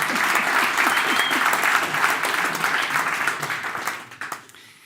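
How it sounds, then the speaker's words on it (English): A meetup audience gives warm applause for a guest, a dense burst of clapping that holds steady and then fades out near the end. "So please give him another warm applause."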